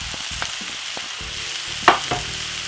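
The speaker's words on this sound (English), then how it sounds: "Give it a nice lovely stir." Cabbage and saltfish fry in a pan under a continuous close sizzle, stirred with a few scraping strokes and one sharp clack of the utensil against the pan.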